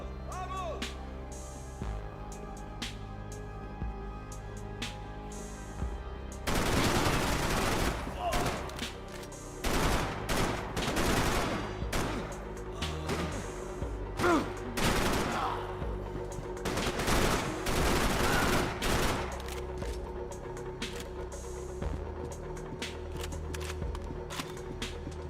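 Glock gunfire rattles through a Max Payne 3 firefight in dense bursts of rapid shots, with loud volleys clustered in the middle and ambient game sound running throughout.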